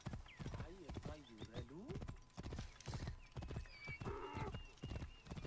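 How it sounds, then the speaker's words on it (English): Horse hooves clip-clop at a steady pace in Assassin's Creed Origins, mixed with a horse's whinny and a voice talking over the top. "Jeez, the horse."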